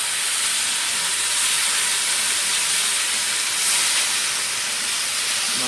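Water poured over hot home-made Malvani masala in a pan for a crab curry: a loud, steady broadband steam hiss sustained throughout, close and uninterrupted, with a slight swell near the end.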